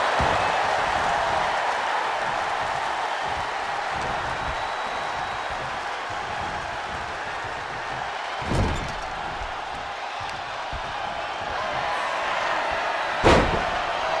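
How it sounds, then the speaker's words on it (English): In the wrestling video game WWE 2K25, two sharp body-slam impacts land several seconds apart, cracking over a steady wash of arena crowd noise. "Slamming their opponent into place."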